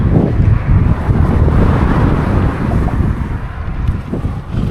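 Strong wind buffets the microphone while cycling through remote Xinjiang, China, a dense, loud low rumble that roars steadily throughout without a break.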